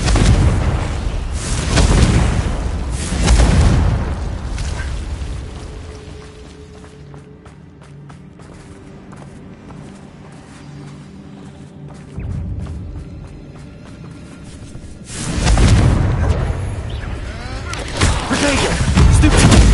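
Confringo spell explosions in Hogwarts Legacy: loud, rumbling blasts with crackling debris, a quieter lull in the middle, then a second heavy run of explosions.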